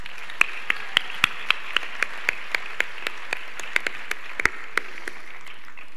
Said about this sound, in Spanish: Así que muchas felicidades y un fuerte aplauso.